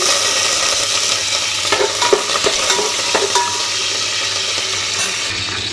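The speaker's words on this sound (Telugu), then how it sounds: "నేను గరం మసాలా వేసుకొని ఒక వన్ మినిట్ అయితే ఫ్రై చేసుకొని నెక్స్ట్ అయితే కరివేపాకు వేస్తున్నారు" Garam masala and curry leaves fry in hot oil with a loud steady sizzle, while a utensil scrapes and clinks against the pan a few times up close.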